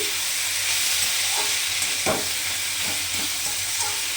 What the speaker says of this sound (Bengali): আমি পেঁয়াজ কালো জিরা কাঁচা লঙ্কা দিয়েই ভাজা ভাজা করছি